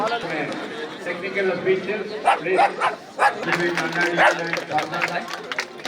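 Several dogs bark in short bursts at an outdoor dog show during a hockey festival, the sharp yaps standing out over a busy crowd with people talking and chattering throughout.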